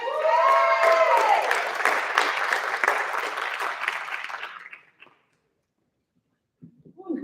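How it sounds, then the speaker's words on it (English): Audience applauding after a poem reading at a Black History Month read-in, a dense burst of clapping that fades out after about five seconds, followed by silence and a faint noise at the end. "Can we give them another round of applause, please?"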